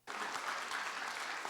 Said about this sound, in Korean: 25명 박수 치고,